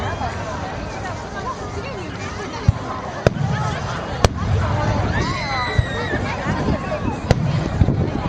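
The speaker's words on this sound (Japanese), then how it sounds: "花火っていいね。" Fireworks burst at the Ichikawa fireworks festival in Japan, several sharp distant booms popping over a constant murmur of crowd chatter, with whistling streaks and people talking nearby.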